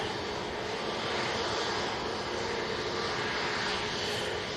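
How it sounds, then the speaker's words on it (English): Airbus A321neo jet at Manchester Airport, a steady broad engine roar from a distance, constant and unbroken with no talk. "We have this A321neo that's lined up"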